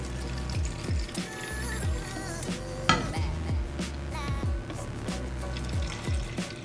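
Liquid solution for DIY self-tanning water poured into an empty bottle, a close, continuous trickling and gurgling fill with small clinks of the container, steady and moderately quiet throughout.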